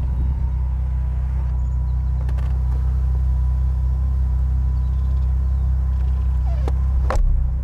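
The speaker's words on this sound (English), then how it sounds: "you press the top button, and then, well, it goes up" The convertible top of an Aston Martin DB7 V12 rises, a steady low motor hum and mechanical whir running continuously, close and even, with a couple of faint clicks near the end.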